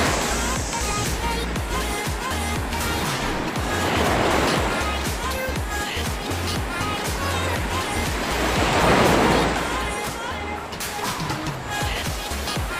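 Rough sea waves wash and surge around a small fishing boat, a constant roar swelling twice into louder rushes, with wind and a low engine-like rumble beneath.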